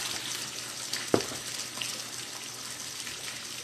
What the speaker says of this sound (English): if you guys hear the water running, that's my pool fountain